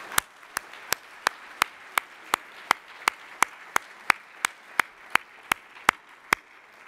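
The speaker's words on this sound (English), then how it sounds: "let's join in one more round of applause for all the finalist teams" Applause for finalist teams at an awards gala comes as a steady run of evenly spaced single claps, sharp and moderately loud, with no voices over them.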